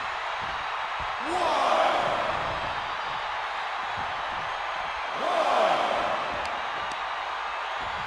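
Two heavy slams of a wrestler onto the mat in WWE 2K25, each a thud with a swell of crowd noise about four seconds apart, under steady arena ambience and commentary.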